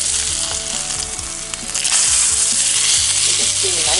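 Salmon fillet sizzling and frying in a cast iron skillet just after being flipped, a steady, close crackle of hot oil that swells louder partway through and stays loud to the end.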